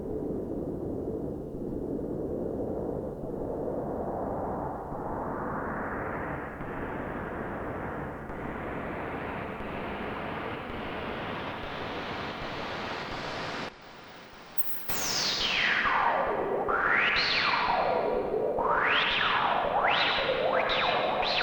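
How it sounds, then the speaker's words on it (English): A battery-powered Eurorack radio sampler with filtering and heavy reverb produces spacey sounds: a washy noise drone rises steadily in pitch, cuts out briefly, then returns as sweeping, swooping tones that dive and climb repeatedly, with no voices. "So we make space sounds with this all day"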